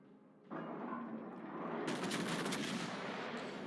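Naval gun on the USS Iowa battleship in World of Warships firing high-explosive shells, a loud sustained rumbling blast that swells into a dense roar of gunfire filling the whole moment.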